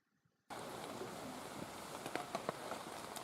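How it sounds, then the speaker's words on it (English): After a brief quiet start, steady rain patters on a tent on the Appalachian Trail in Virginia, a dense hiss with occasional louder drips and taps, no voices. "It's 8:05 and it's still raining and it hasn't stopped."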